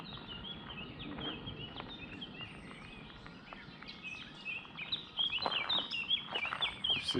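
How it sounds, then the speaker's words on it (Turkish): Birds chirp and tweet in a scattered chorus at a hilltop fortress, Hohentwiel, 260 metres up, moderately close, with soft outdoor background noise and the calls growing busier toward the end. "Kuş seslerini duyuyor musunuz?"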